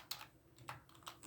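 Several quick keystrokes on a computer keyboard, about three soft, separate clicks in a short burst, close and quiet.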